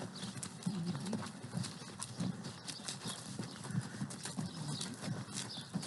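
Horses trot on a ranch, hooves clip-clopping steadily on the ground in a rhythmic beat at moderate distance with faint ambient noise.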